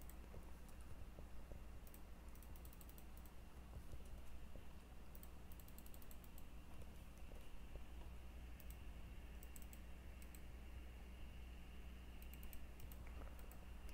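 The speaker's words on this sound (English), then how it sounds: "you can hear a lot of just annoying clicking sounds in the background" Faint keyboard-like clicking in scattered bursts over a low steady hum during a Mount and Blade Warband gaming live stream, distant and quiet throughout.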